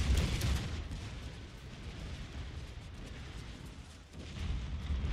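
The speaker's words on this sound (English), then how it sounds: "Crazy gunfire is just so weird." Dense gunfire and artillery in a live-streamed strategy battle with samurai units: a continuous, roaring wash of distant shots and booms with no clear gaps, swelling slightly at the start and end.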